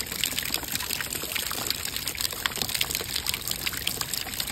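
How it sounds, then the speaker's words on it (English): Rainwater runs off a house roof and pours into a bucket, a steady broadband trickle and splash that carries on for the whole stretch at an even level, with no talk over it. "you can see the water is coming down from the house, okay, from the roof,"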